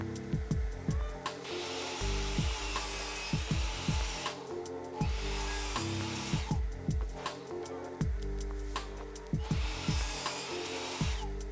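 A power saw cuts plywood sides to length against a stop block, its motor whining up and down through several repeated cuts with clunks between them, close and loud.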